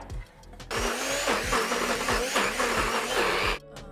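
A kitchen blender whirs loudly, blending shrimp paste with dried chilies in one sustained run of about three seconds, with the motor pulsing and rising, then cutting off abruptly.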